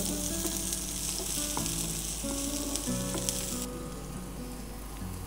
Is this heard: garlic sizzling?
yes